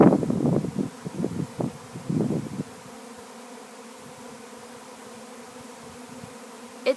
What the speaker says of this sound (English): the bees are swarming again in our backyard